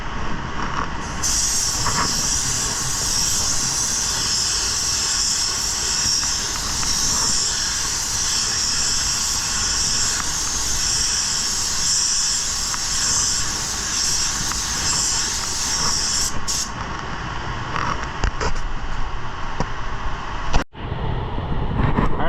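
Paint spray gun laying down a drop coat on a two-tone automotive finish, a loud continuous hiss of atomizing air for about fifteen seconds, then cutting off, followed by a quieter stretch and a brief bump.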